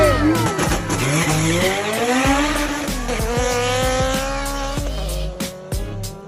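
A first-generation Honda CRX race car with a B20 engine, unibody chopped out and fiberglass-bodied, racing close by: a loud, high-revving engine climbing and shifting through the gears, with tire squeal and sharp bursts throughout.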